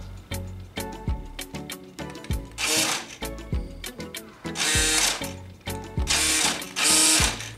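Steering servo mechanism of a WLToys 144001 RC truck, held upside down, whirring and ratcheting in short bursts as the wheels snap left and right, loud and close with no talk.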